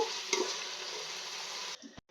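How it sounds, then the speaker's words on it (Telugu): Steady, dense sizzle of onions and cashews frying in a pan toward golden brown, close and fairly loud, with a brief stirring clatter early on before it cuts out near the end. "గోల్డెన్ బ్రౌన్ వచ్చేదాకా వేయించుకుందాము"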